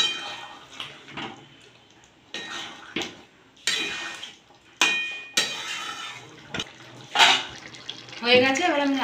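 Jackfruit kofta curry with ghee being stirred in a pan: intermittent scraping and clattering bursts of a spoon against the metal, close and fairly loud, with a voice rising briefly near the end.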